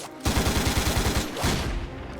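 Automatic gunfire sound effect from the Stargate SG-1 intro: a loud, sustained rapid burst of shots after a brief quiet start, continuing steadily with a short dip before resuming.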